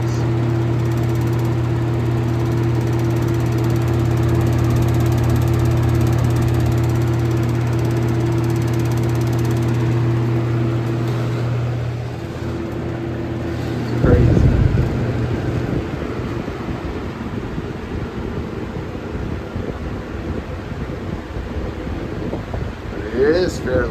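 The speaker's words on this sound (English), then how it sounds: "you can see how out of balance this fan is" A 1996 Holmes HABF-25 box fan with an out-of-balance motor runs with a steady low hum and a faint whooshing airflow, then the hum drops away after a brief thump partway through, leaving softer rushing noise.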